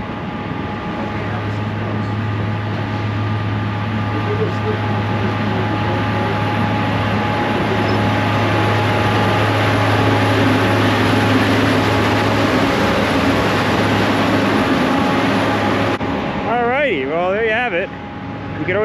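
Mount Washington cog railway train runs with a steady low mechanical hum and rumble outdoors on the mountain, under a steady wash of noise. A brief warbling sound comes in near the end.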